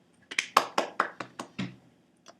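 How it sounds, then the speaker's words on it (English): Two people clapping at a small home awards night, about eight crisp, close claps in a quick, slightly uneven run, followed by one soft final tap. "Should we clap? We should."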